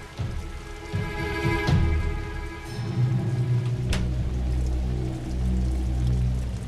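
Steady rain falling on and around a car stalled on a road, a continuous wash of patter with a few sharper splashes and a heavier gust midway, loud and close with no talking.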